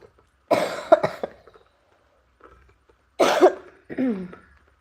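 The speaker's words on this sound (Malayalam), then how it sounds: "പനി വന്നു കഴിഞ്ഞാൽ ചുമയാണ് നമുക്ക് കൂട്ടായിട്ട് ബാക്കിയുള്ളത്" Several harsh coughs: a cluster of sharp bursts, a pause, then two more loud coughs close by, with a raspy, throaty tail.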